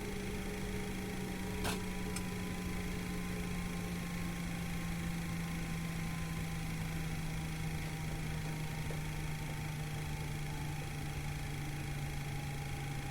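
A Boeing 737 jet engine in the IXEG 733 flight simulator spools down in the cockpit, a steady droning hum whose tones slowly drop in pitch over about thirteen seconds, with a faint click near the start.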